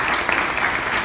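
Guests applaud at a wedding reception during a best man speech, a brief burst of dense, even clapping that fills the room without voices on top.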